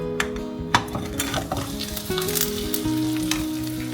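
Spring rolls sizzle steadily in hot oil over a small fire, a dense continuous crackle with occasional sharper pops and light clinks of a utensil, close and fairly loud with no talking.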